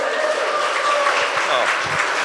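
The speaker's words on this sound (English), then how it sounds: "Please, a round of applause for Congressman Bill Foster." An audience at an Asian heritage festival applauds Congressman Bill Foster with steady, close clapping throughout, while a voice is heard through it.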